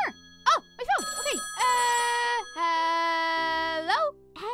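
A cartoonish phone ringtone in a Minecraft game, rising chirps followed by sustained melodic tones, loud and close with a short pause between bursts.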